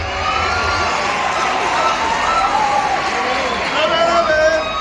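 Crowd at a Wiridiasopore comedy show cheers and claps, a loud, steady din of whoops and applause throughout, with voices shouting over it.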